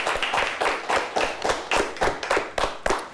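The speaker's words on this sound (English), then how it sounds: "Let's give them a nice round of applause." Quiz show studio audience gives a round of applause, a sparse and fairly regular burst of clapping from a small group of hands, close and moderately loud.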